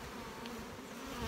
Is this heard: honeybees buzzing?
yes